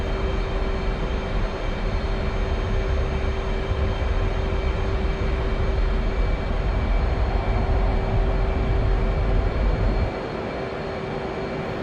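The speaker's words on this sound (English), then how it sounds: "Keep a small amount of backstick and the Hornet will automatically rotate and fly off the runway" An F/A-18C Hornet jet in DCS World roars down the runway on its takeoff run, a steady loud engine rumble with a constant whine, dropping off sharply near the end.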